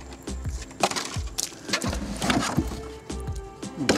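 Several sharp gunshots from a Thompson Center Thunder Hawk rifle demolish plastic jugs, each crack followed by splintering, clattering debris, with a steady background hum throughout.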